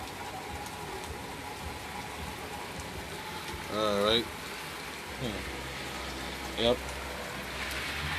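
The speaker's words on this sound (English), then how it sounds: "Y'all look at the rain" Steady rain falls outside on a wet day, a constant soft hiss filling the background while someone speaks briefly now and then.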